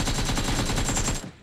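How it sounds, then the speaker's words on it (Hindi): Rapid gunfire in PUBG Mobile, where an M24 sniper rifle is being fired, comes as a dense string of loud shots with no speech, fading out at the end. "अरे भाई M24 का शॉट मार रहा है यार।"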